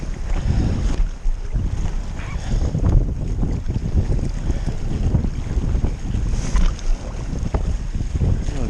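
Gusty wind roars steadily across the microphone while kitesurfing with a 12m Switchblade kite on a Duotone Spike board, with rushing buffets and water noise throughout and no clear talk.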